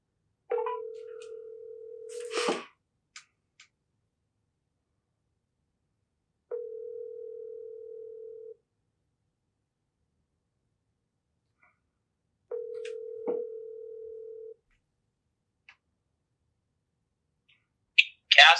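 A telephone ringback tone sounds in three separated steady beeps with long silent gaps between them while a call to a casting agent connects, followed by a brief click of pickup at the end.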